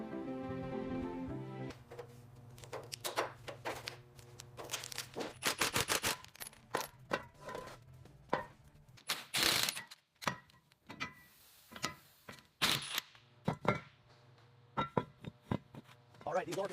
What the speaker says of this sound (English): We're using the impact wrench to get these rusted bolts off